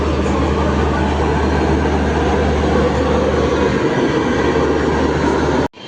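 A passenger train, the Uttarbanga Express, runs along the rails with a loud, steady rumble and rattle heard from on board, unbroken until it cuts off sharply at the end.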